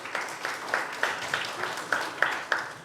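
An audience applauds at a business leadership event's opening address. A few pairs of hands give rhythmic, evenly spaced claps, close and distinct rather than a dense roar.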